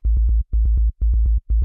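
A deep sub bass synth, a plain sine wave shaped by a short filter envelope, pulses in four quick bursts of rapid repeated low notes, loud and alone, ending with a brief noisy hit.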